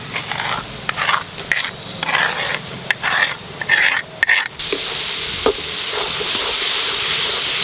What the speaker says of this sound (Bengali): মশলাটা ভেজে নিলাম ভালো করে